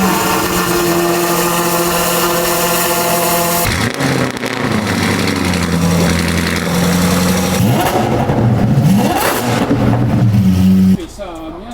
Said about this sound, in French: Vous allez entendre le bruit de ces voitures.